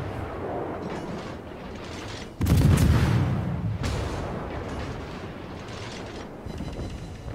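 A heavy boom of naval cannon fire in World of Warships erupts suddenly and rumbles on, with a second blast soon after over constant low engine noise.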